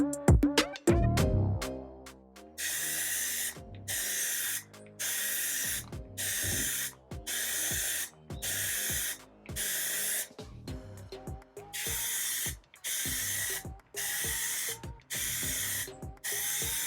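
Red Plastidip sprayed from an aerosol can onto a Tesla Model Y emblem: a long opening hiss, then a steady run of loud, even bursts roughly a second long, separated by short pauses.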